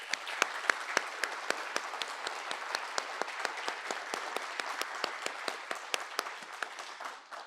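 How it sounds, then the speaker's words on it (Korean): Staff at an anniversary technical seminar for a ship classification society give a quiet round of applause, individual claps sharp and distinct in a steady patter that thins out at the end. "KR 임직원 여러분들이 박수 한번 주시면 감사하겠습니다"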